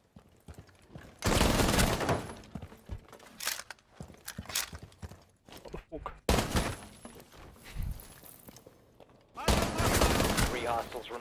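Gunfire from shooting enemies in Rainbow Six Siege arrives in three loud bursts of rapid shots separated by quieter gaps, with a voice speaking between them.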